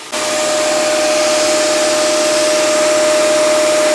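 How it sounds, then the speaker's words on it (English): Sandblasting a bike part, a loud continuous hissing blast that starts abruptly and holds steady with a faint tonal whine, close to the microphone with no talk. "But when you sandblasting, when you're doing a piece like that, how long does it normally take"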